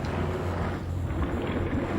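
A tracked amphibious vehicle pushes through water, giving a dense, continuous rumble of engine and churning wash mixed with wind buffeting, loud and close throughout.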